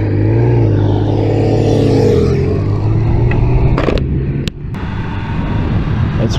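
A Triumph Speed Triple 1200 RS motorcycle riding on twisty Austrian roads, its engine note rising and falling loudly through revs with wind noise and a brief dip as the throttle closes.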